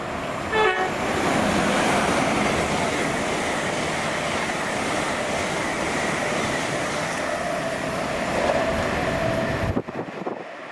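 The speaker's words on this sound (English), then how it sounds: "your 1351 service to London King's Cross has now just left" Train leaving the platform at Welwyn Garden City on the East Coast Main Line, a continuous loud rumble with a short horn toot near the start, fading toward the end.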